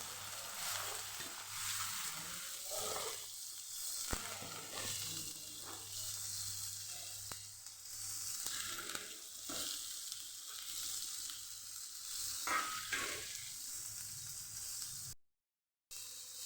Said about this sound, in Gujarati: હવે આપણે કોબીનો વઘાર કરી દઈશું